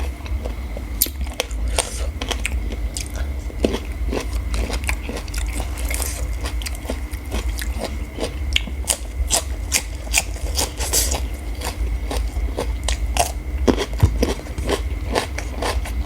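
Someone close to the mic bites and chews spicy Thai chicken feet salad made with glass noodles, giving a steady run of crunchy, wet, crackling chews over a low background hum.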